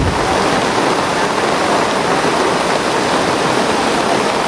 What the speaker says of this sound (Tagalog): Ayan, sobrang lakas ng ulan.